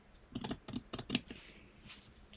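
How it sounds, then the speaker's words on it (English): Scissors or a rotary cutter cutting fabric for foundation paper piecing, heard as a short run of quiet, close snips and clicks in quick succession. "And now I can just take and cut."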